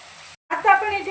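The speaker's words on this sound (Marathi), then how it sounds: "आता तेल सुटेपर्यंत आपल्याला सगळा मसाला फ्राय करून घ्यायचा आहे." Masala frying in oil for Delhi-style chole: a close, steady sizzle, with a voice talking over it for much of the moment.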